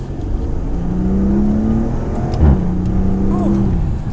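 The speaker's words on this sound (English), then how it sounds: "once you put it into sport mode, you can definitely hear that exhaust" A Maserati Ghibli SQ4 twin-turbo V6 in sport mode gives a deep, steady exhaust drone that swells briefly as the revs rise, heard close from inside the car with some voice in the background.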